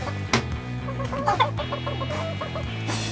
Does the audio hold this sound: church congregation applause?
no